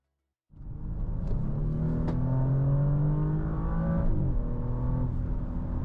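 A 2024 Audi S6 drives on the road with a steady, refined engine drone and tire rumble. It eases up through the revs with a smooth shift partway along, and no one speaks.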